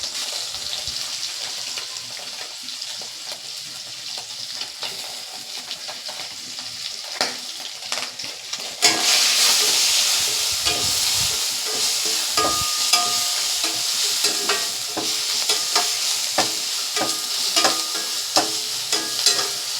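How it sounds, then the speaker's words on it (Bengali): Grated ginger and garlic hit a pan of hot oil with black cumin, starting as a quieter sizzle that jumps to a louder, steady crackle, with occasional stirring clinks close by and no speech. "আদা রসুনটা একটু ভাজা ভাজা করে নিলাম, যাতে কাঁচা গন্ধটা চলে যায়।"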